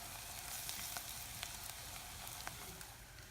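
Onions sizzle and fry steadily in a pan with a soft, even crackle and occasional sharper pops, close and fairly quiet.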